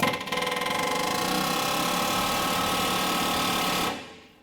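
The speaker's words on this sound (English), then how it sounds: "I'm gonna take my air hammer and just start vibrating it." A pneumatic air hammer chatters on a rusted bolt of a rotted leaf spring shackle in a rapid, steady buzz for several seconds, loud and close, then cuts off abruptly.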